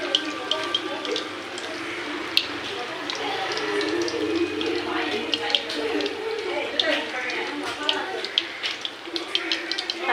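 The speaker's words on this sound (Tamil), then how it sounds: "ஒவ்வொன்றா போட்டு பொறுமையாக பொரிச்சு எடுத்துக்கலாம்." Spiced quail pieces frying in hot fresh oil on a stove, a steady loud sizzle and hiss with scattered crackling pops, while a person talks over it.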